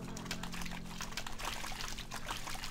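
Washing with dirty water in a bathtub in Project Zomboid, a quiet, steady pouring and trickling of water that runs on without a break and stays faint.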